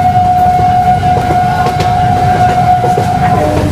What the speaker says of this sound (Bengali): এখন আমরা আমাদের ট্রেনের শেষ হল ছেড়ে আমরা এগিয়ে যাচ্ছি দীঘার দিকে।